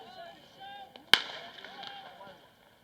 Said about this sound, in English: as you still hear firecrackers going off